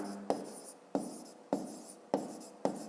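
A pen writes an answer for a fifth-grade math exercise, making five evenly spaced scratchy strokes, close and quiet, with no talking.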